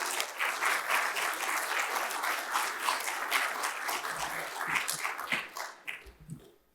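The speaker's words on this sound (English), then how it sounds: "We can clap for them." Meeting audience at a conference applauding supporters, a steady patter of many hands that holds for several seconds before thinning out and fading away.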